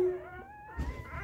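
Day-old newborn puppies in a heated kiddie pool whimper with thin, high, wavering cries, faint and close, with some soft rustling.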